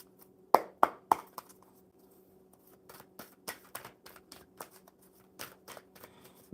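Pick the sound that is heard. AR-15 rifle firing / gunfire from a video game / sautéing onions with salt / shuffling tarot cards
shuffling tarot cards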